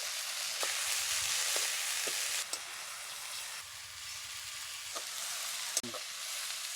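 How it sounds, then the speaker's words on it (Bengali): Taro leaves frying with spices and turmeric in a pan, a bright, continuous sizzle with occasional scraping stirs and clicks of a utensil, close and fairly loud with no talking. "মশলার সাথে কচু শাকটা মিশিয়ে নেব। এইভাবে 2 থেকে 3 মিনিট এইভাবে নাড়তে থাকবো।"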